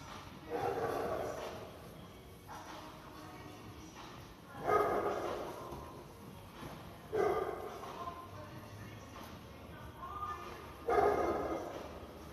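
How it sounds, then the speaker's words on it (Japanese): A dog barks in bursts at a shopping complex during a walk with a pug, five or so separate barks spaced a few seconds apart. They sound moderately distant against a quiet, echoing indoor background. "犬が鳴いてる。"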